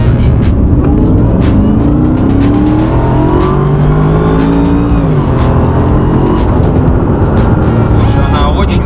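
Mercedes-Benz SLR McLaren supercar, 626 horsepower, accelerating hard from a low gear, a loud continuous engine roar with rising and shifting pitch heard from inside the cabin, close and dominant throughout.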